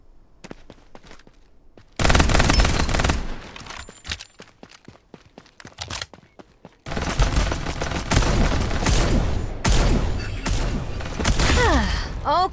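Rapid bursts of automatic gunfire in the battle royale game Farlight 84, loud and dense after a quieter opening with scattered single shots, continuing in long sustained volleys.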